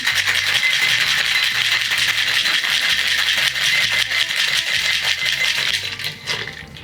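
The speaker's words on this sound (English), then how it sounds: "Add some ice to a tin. And shake." Ice rattles hard inside a metal cocktail shaker tin during vigorous shaking for a tiki-style coffee cocktail with sugar syrup, a loud continuous rhythmic clatter lasting several seconds before easing off at the end.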